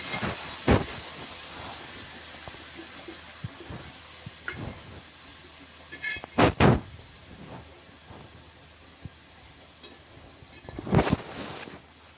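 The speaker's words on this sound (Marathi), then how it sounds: "अगोदर घुगऱ्या तेलात टाकून घ्यायच्या आहेत" Boiled grains (ghugrya) frying in hot oil make a steady, close sizzling hiss, broken by a few sharper clatters of utensils.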